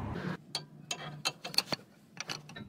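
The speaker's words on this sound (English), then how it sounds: "Now I'm gonna be removing the two nuts, 17mm nut, and the rear motor mount" A ratchet wrench loosens the 17mm nuts on the small rear roller motor mount of a Toyota Sienna, giving a series of sharp clicking ratchet bursts in an irregular rhythm, close and fairly quiet against a faint hum.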